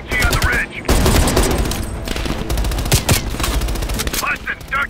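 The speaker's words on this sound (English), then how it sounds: "Heavy MG on the ridge!" Heavy machine gun fire in Call of Duty Black Ops Cold War, loud sustained bursts of rapid shots with booming impacts, close and continuous, with shouted game dialogue mixed in.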